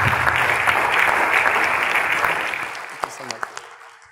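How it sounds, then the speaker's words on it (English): Audience applause at a public speaking talk, a dense steady clapping that fades over about three seconds, leaving a few isolated final claps near the end. "Give her a round of applause."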